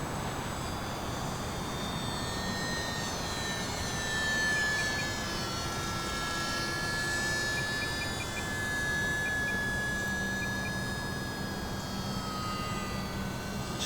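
An E-Flite UMX Pitts S-1S, a small electric RC model biplane, flies in to land, its high whining motor droning steadily at a distance and rising and falling slightly as it passes, with no talking.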